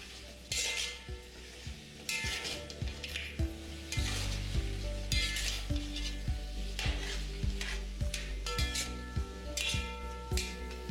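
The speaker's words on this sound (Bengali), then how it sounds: "এবার ফ্লেমটা মিডিয়াম রেখে মাটনটাকে আপনাদের ভালো করে এর সাথে মিশিয়ে নিতে হবে।" Mutton frying over medium flame with fried onions, stirred continuously in a pot: a steady sizzle under repeated spoon scrapes and metallic clinks against the pan.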